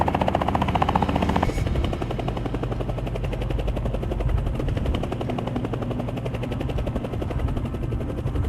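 A hog-hunting helicopter's rotor thumps in a fast, steady chop with a loud engine drone, close and continuous throughout, in Oklahoma.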